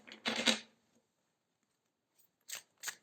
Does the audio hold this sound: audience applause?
no